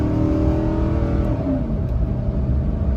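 A Ford F150 pickup truck engine under full throttle drones loud and steady, a low rising roar from inside the cab with no talking.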